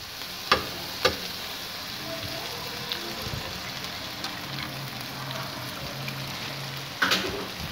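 Egg frying in a pan for anda kapooray, a soft continuous sizzle with a few sharp clicks and clatters of utensils against the pan, close and without talk.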